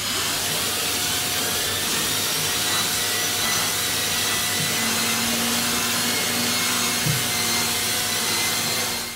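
Shark Powered Lift-Away vacuum cleaner with duo clean, model NV801UKT, running on stairs: a loud, continuous motor whir and airflow roar throughout, with small shifts in pitch as the nozzle moves.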